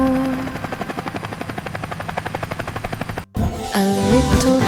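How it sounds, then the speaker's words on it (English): An animated cartoon helicopter flies close by, its rotor chopping in a rapid, steady, even pulse; after a short break a brighter, playful helicopter sound continues, with no talking. "The helicopter looped one more, then drifted to the blue shore door and settled gently"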